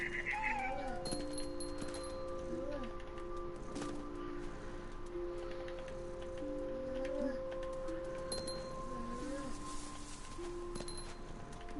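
An angry cat in What Remains of Edith Finch gives several short, wavering meows and yowls over a steady background hum, with a person's voice heard between them.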